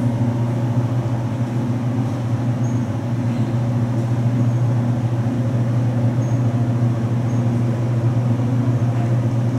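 Riding inside an Otis traction elevator at Water Tower Place in Chicago: a continuous, even low mechanical hum and drone with steady background rumble, no voices.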